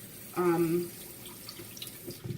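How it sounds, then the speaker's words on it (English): Tap water running while rinsing a can of beans in a sink, a brief close pouring splash with a clear tone, followed by light drips and faint clatter. "Just rinse your can of beans"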